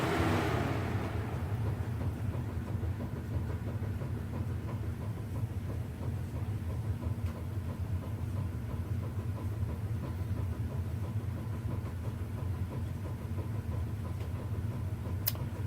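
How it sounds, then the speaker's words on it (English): A Lasko 24-inch plastic box fan winds down as a faint, low whooshing drone that holds steady and soft with no other sounds around it. "This was the 24-inch plastic Lasko box fan."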